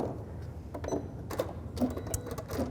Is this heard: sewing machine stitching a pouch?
yes